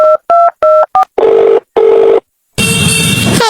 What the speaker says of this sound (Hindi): ले फोन और लगा दे कॉल उसको